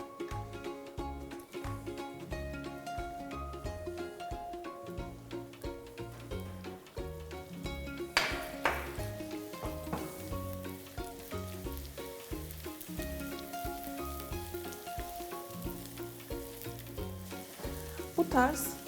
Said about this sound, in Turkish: Yağım ısındıktan sonra içerisine doğradığım elcik soğanlarımı ilave edeceğim ve yarı pişirene kadar sürekli karıştırarak ocağın üstünde tutacağım.